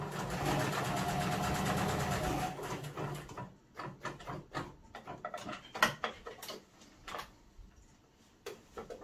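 A sewing machine top stitches a fabric peg bag in one steady run of about three seconds, then gives way to scattered clicks and light handling knocks as the fabric is adjusted.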